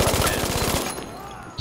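An MG-42 machine gun fires in Battlefield V as a rapid, loud burst of evenly spaced shots that cuts off partway through, leaving a ringing tail and a faint thump at the end.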